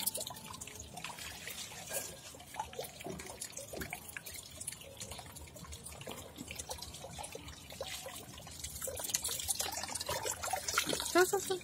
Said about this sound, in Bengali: গাছে জল দিয়ে দিচ্ছে।